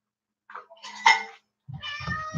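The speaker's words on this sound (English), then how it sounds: "you hear that meow?" Domestic cat meowing close by, one short call then a louder drawn-out meow, followed by a clatter of dishes and cutlery in a kitchen.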